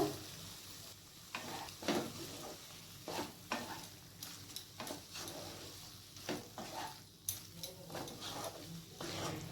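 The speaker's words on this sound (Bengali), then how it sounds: "ভেন্ডিগুলোকে মশলার সাথে হালকা করে মিক্স করে নেব" Fried okra is stirred into a spice masala in a pan, with repeated scraping and clattering strokes of a spoon against the metal over a soft, steady sizzle, close and fairly quiet.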